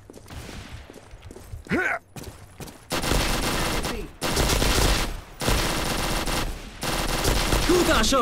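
Gunfire in the online shooter Karma Online: long bursts of automatic rifle fire, loud and close, coming in several sustained volleys separated by short pauses, with a few quieter single shots at the start.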